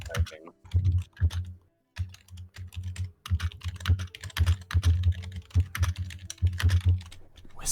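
Loud mechanical keyboard being typed on in bursts of rapid, bass-heavy clacks with short pauses, close and dominant, with no talking.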